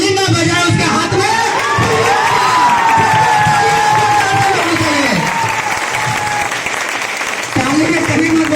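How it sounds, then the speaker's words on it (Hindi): A crowd of audience members breaks into loud, sustained applause with cheering and whoops, the clapping dense and continuous close by for several seconds before tapering. "जो ताली ना बजाए उसके हाथ में"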